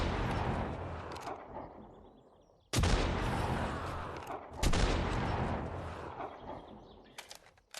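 Sniper rifle shots in the video game 7 Days to Die: two loud, sharp blasts a couple of seconds apart, each trailing off in a long echoing rumble, with fainter shots near the end.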